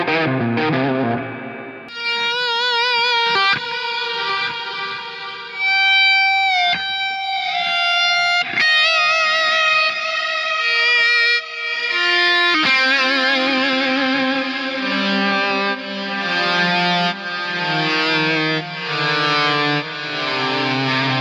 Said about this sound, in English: the Ventris reverb, which I'll use for a little bit of plate reverb to get like a studio quality